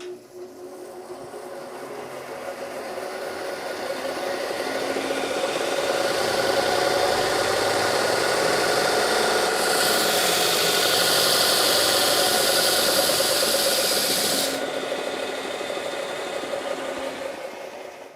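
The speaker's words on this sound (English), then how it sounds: "I discovered that something's wrong with the motor on this machine. It bogs down really easily." A Delta disc/belt sander with a faulty motor runs with a steady, loud motor drone that rises and holds, then thins with a harsher high whine in the middle before easing off again, heard up close without talking.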